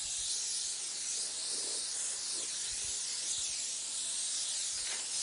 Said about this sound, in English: there's going to be a lot of overspray getting on the other parts of the vehicle